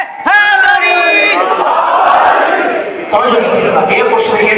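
A large mourning congregation at a Muharram majlis roars back in unison to the Naara-e-Haideri slogan, a loud massed bellow that swells, dips briefly and rises again.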